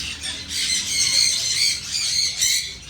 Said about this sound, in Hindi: यहाँ पे उन्होंने 2 तोते और निकाल दिए